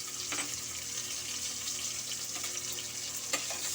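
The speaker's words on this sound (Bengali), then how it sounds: "এর মধ্যেই দিয়ে দেবো পাঁচফোড়ন শুকনো লঙ্কা" Panch phoron and dried red chillies sizzling in hot oil in a pan where fish heads were just fried, a steady bright hiss with a few faint pops and spatters.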